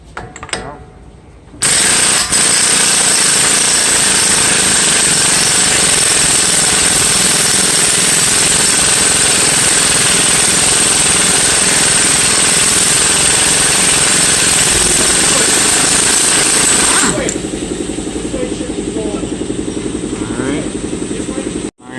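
A power tool loosens the front axle nut on a Dodge Avenger: a loud, steady hammering rattle of an impact gun runs for about fifteen seconds, then stops abruptly, leaving quieter workshop sounds.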